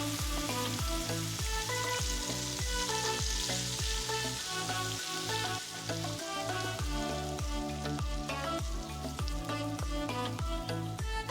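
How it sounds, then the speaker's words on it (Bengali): Onions hit hot oil in a pan for a hilsa and pineapple dish, giving a loud continuous sizzle and crackle with rhythmic popping spatters throughout, no voices. "আমি এখন এই তেলের মধ্যেই পেঁয়াজটা দিয়ে দিচ্ছি"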